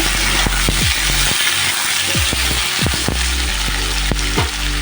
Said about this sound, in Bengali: এটা এখন ভেজে নেব।